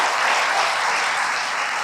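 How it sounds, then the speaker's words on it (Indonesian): Church congregation applauds during an online Sunday worship service, a continuous even roar of many hands clapping at full strength with no pause. "Beri tepuk tangan lagi buat Tuhan kita."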